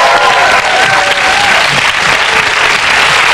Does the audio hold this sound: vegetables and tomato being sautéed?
no